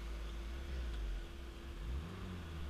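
Alfa Romeo car engine idling smoothly with a steady low rumble and a constant hum, close and continuous, with no voices.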